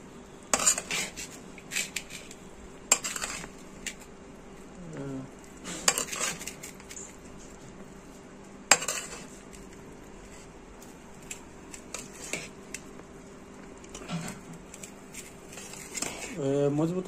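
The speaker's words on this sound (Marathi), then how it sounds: "अशी मिक्स करायची बिर्याणी" Homemade veg dum biryani is stirred in a large steaming pot, with a metal spoon scraping and clinking against the pot in irregular bursts while a person talks throughout.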